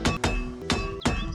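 Carpentry hammer strikes on a notice board being dismantled in the zombie survival game Project Zomboid: four loud, sharp impacts with ringing tails at an uneven pace, close and alone.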